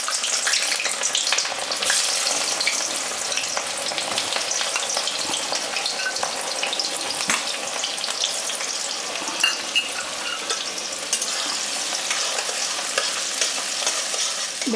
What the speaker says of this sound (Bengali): তেল গরম হয়ে গেছে, এবার আমি এই পেঁয়াজগুলোকে বেরেস্তা করে নেব।